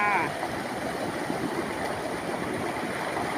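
Water spills over a weir at a waterfall in full flow, making a steady, dense rushing roar. A voice is heard briefly at the start.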